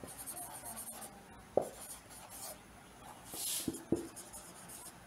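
Someone writes out a chemical equation by hand. Faint, soft scratching strokes run through a quiet room, broken by a few sharp taps, with no voices.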